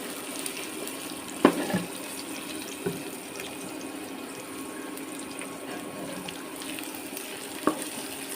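Fish marinated in lemon juice, turmeric and salt fries in a pan, giving a steady, soft sizzle with a few sharp pops and spits scattered throughout.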